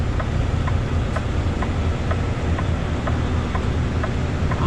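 A loud, steady low rumble of a truck engine runs throughout, with a faint regular ticking riding on top.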